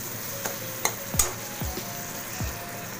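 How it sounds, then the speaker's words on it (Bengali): Spice paste stir-fried in oil for a stuffed pointed gourd dish, with a steady soft sizzle and several sharp spatula scrapes against the pan, close and alone without talk. "ভালো করে তেলের সাথে মশলাটাকে কষিয়ে নিতে হবে।"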